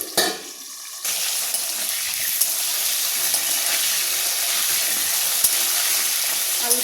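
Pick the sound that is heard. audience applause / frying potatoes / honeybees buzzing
frying potatoes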